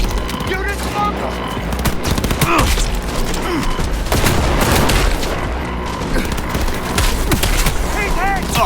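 Dense gunfire in the video game Cyberpunk 2077: rapid automatic bursts and booming shots layered thickly with game effects, loud and continuous, while voices shout over the shooting.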